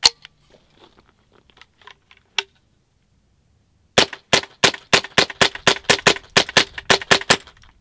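Suppressed .22 rifle fired rapidly through a full magazine at a range, about a dozen sharp, muted cracks with audible bolt cycling in quick steady rhythm, close and fairly loud, after a few faint clicks.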